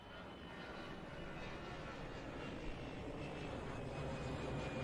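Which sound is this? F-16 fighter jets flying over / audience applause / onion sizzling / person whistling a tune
F-16 fighter jets flying over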